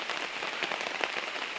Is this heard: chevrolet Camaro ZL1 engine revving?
no